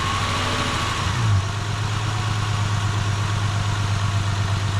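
A Honda car engine with a high or sporadic RPM problem, heard close up: a short rev, then a steady low idle hum that carries on alone.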